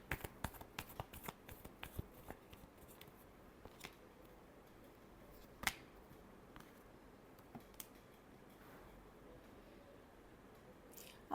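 Tarot cards riffle and flick in quick bursts, a cluster of soft crisp snaps at the start followed by quieter scattered shuffling and occasional louder taps, faint and close.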